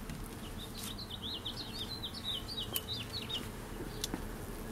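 Package honeybees being hived outdoors give a low continuous buzz, with a chirping bird song running over it in the middle and a few faint clicks.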